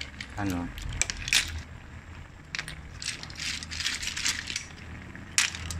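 Bagongon sea snail shells clatter into a cooking pot for ginataan, a cluster of hard clinks and rattles with scattered knocks under faint talk.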